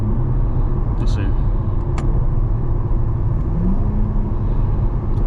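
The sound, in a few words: C8 Corvette engine and exhaust in Sport+ mode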